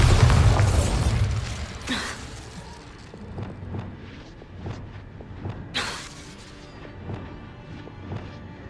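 A Bombarda explosion spell in the Hogwarts Legacy video game bursts loudly at the start with a deep boom, followed by a second crackling blast around two seconds and another near six seconds, with scattered debris clatter between.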